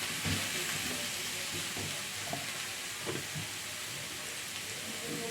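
Eggplant frying in a pan, a steady loud sizzle and crackle that runs unbroken throughout, with faint light knocks underneath.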